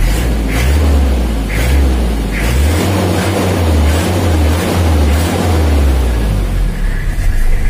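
Toyota Kijang diesel engine with a rough sound and weak power, revved up and released; a loud, close low rumble rises and falls in pulses with a steady idle throb beneath.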